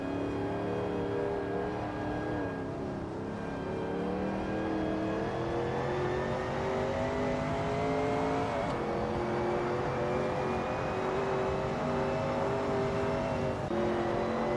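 A Shelby Cobra 351 race car in a racing video game drives around Bridgehampton, its engine holding a steady, loud drone with harmonics rising and dipping through gear changes.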